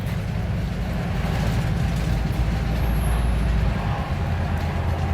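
A bus engine drones low and heavy as it accelerates along a dual carriageway, with a steady rumble and road noise heard from inside the vehicle and no talking.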